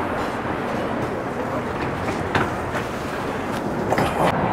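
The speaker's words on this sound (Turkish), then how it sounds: "Metromuz da geldi." An Athens metro train rumbling along in a steady, loud, broadband roar with occasional rattles and clicks, heard from close by with no clear talk.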